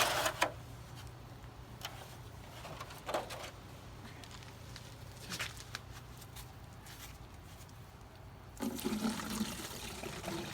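Old fluid drains from a Chrysler 300C 3.5L into a pan, a faint continuous trickle and splash with brief rattles, then a louder pouring surge toward the end.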